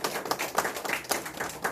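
Sparse, scattered clapping from a large church congregation, a few hands patting out quick irregular claps at moderate-low volume with no voices over it.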